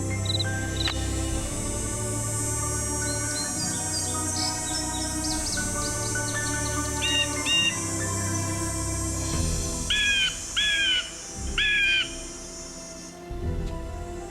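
Chirping bird calls in the Nancy Drew: Ghost Dogs of Moon Lake video game, a few short separate tweet phrases over a steady outdoor ambience, with clusters of repeated chirps toward the end.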